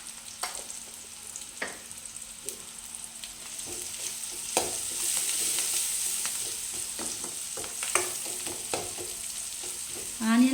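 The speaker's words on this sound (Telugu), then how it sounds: "ఆనియన్ బాగా ఫ్రై కావాల్సిన అవసరం లేదు, లైట్గా వేగిపోతే సరిపోతుంది." Sliced onions lightly frying in a pan with salt for a kurma, a steady soft sizzle broken by repeated scraping and stirring strokes, close and moderately quiet with no talk.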